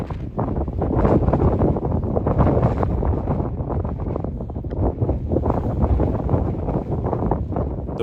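Strong wind roars and buffets across a high mountain summit ridge in Scotland's Great Glen, a loud, continuous gusting rush with heavy microphone buffeting and no talking.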